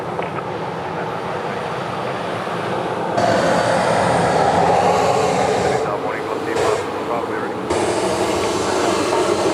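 A jet aircraft rolls past on the runway at Sydney Airport, a loud, steady roar that swells and holds for several seconds while a voice talks over it.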